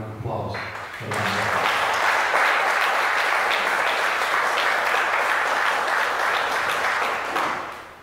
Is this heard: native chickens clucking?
no